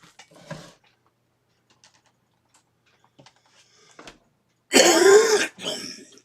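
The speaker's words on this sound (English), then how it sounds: "Excuse me for coughing." A person clears their throat and coughs loudly near the end, after a stretch of near silence with faint tapping sounds.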